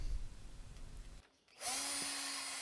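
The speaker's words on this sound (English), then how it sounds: "You are now ready to drill." A power drill bores holes in a balustrade post for stainless wire fittings, starting with a gritty low grind, a brief pause, then a steady high whine running close and loud.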